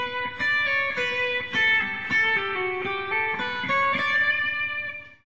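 Guitar plays the opening two systems of Pachelbel's Canon as a flowing melodic line of plucked single notes with ringing sustain, moderately loud and close, with no voices.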